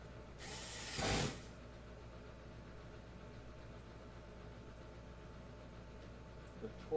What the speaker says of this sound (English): I'm going to use the driver. It's going to tighten in and hit the torque.